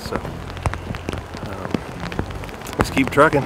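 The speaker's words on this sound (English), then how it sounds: "It's gonna rain all day" Rain falls steadily on a mountainside during an ibex hunt in Spain, a soft continuous patter with scattered drops, while a person speaks briefly near the end.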